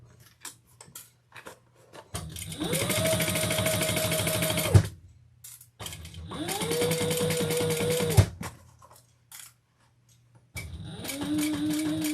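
A sewing machine stitches a handbag seam in three sustained runs of fast needle clatter and motor whir, each spinning up and stopping abruptly, with quiet gaps and light handling clicks, heard up close.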